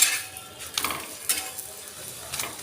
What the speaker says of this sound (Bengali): এরপর আর একটা পরোটা এইভাবেই ভেজে নেব